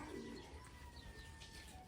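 A faint, low pigeon coo sounds briefly near the start on a farm, against a quiet background hum of distant ambient noise.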